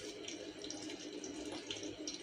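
Coriander, curry leaves and mint being washed in a bowl of water give a steady close splashing and running-water sound throughout, with no talk.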